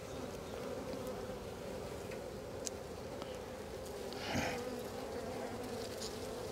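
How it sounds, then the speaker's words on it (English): Honeybees buzz steadily around open hive frames in an orchard apiary, a constant low droning hum with occasional individual bees passing close by, faint and continuous with no talking. "we might just have generally some grumpy bees"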